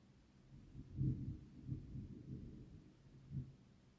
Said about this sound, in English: I guess the thunder felt like it needed to fill the silence